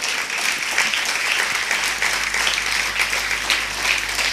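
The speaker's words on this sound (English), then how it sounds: "Please give me a big round of applause for Dr." An audience at a talk on Ayurveda gives Dr. B. M. Hegde a round of applause: dense, steady clapping from many hands that fills the room without pause.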